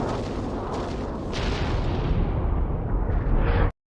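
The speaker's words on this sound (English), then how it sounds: "that was Halo 3's Mac Cannons firing" Heavy cannon fire from a Halo 3 frigate's MAC guns in a video game: a sustained, loud rumbling roar with boomy low end that swells slightly before cutting off abruptly.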